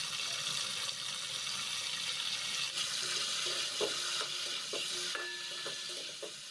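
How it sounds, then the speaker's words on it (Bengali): Cut cauliflower pieces frying with salt and turmeric in mustard oil left in a kadai after frying fish, giving a loud, steady close-up sizzle with occasional clinks of a stirring utensil and no talk. "এখন এই মাছ ভাজা তেলের মধ্যেই কেটে রাখা ফুলকপিগুলো ভেজে নিচ্ছি।"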